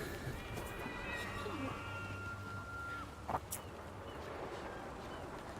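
Palico cat companion from Monster Hunter Rise: Sunbreak mewing in the game, a few soft, drawn-out meows over a steady background of game ambience and music.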